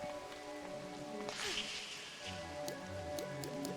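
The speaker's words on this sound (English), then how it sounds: "I don't think we've been here while it's raining yet" Steady rain patters continuously behind soft game music and chimes, a constant wash of hiss at low volume, in the video game Crow Country.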